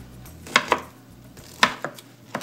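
Knife chopping through fresh pineapple while making salsa, a few crisp cuts landing in two quick pairs, close up, with no talk.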